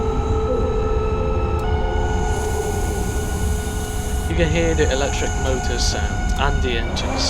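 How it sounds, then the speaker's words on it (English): A loud, steady Class 68 electric locomotive motor in Train Simulator drones with rising whine tones, over constant rumbling rail noise. "You can hear the electric motor sound."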